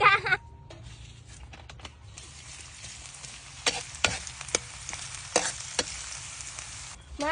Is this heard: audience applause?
no